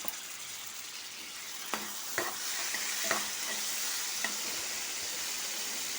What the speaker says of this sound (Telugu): ఇది బాగా వేగాలి